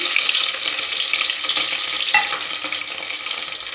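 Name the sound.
cumin, mustard seeds and garlic frying in hot oil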